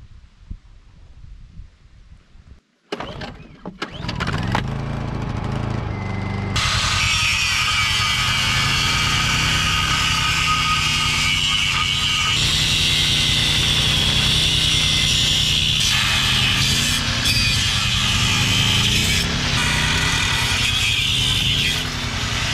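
A D7 bulldozer engine running loud and close while dragging a broken Bobcat, a steady heavy diesel roar that rises sharply after a few seconds of quieter rumbling and then holds constant.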